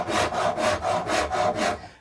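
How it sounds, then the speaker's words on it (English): A half round rasp strokes back and forth across guitar wood being carved, about seven rhythmic, evenly spaced rough scraping passes, close and loud with no talking. "I'm going in just to bring that carve in, and a rasp is your best friend here"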